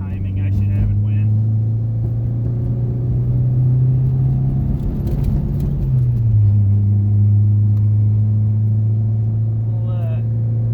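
Car engine running on a short test drive, a steady loud low hum with a drop in pitch partway through and road rumble underneath, continuous and close.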